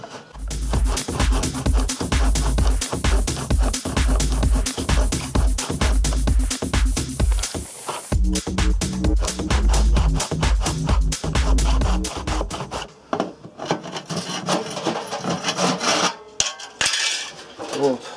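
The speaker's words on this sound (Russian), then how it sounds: "В самых ответственных местах я пилю мелким зубом, чтобы не испортить" A fine-tooth hand saw cuts through the drum tub of an Indesit washing machine in fast, regular rasping strokes, loud and close, then gives way to quieter scraping and clattering handling sounds.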